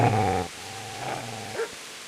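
A dog in the medieval video game Kingdom Come: Deliverance lets out a short, close, low growl that trails into a quieter rumble with a brief final snarl.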